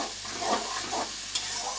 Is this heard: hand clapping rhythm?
no